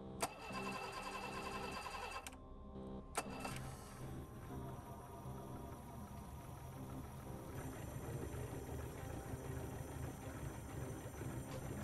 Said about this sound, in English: The second engine started right away.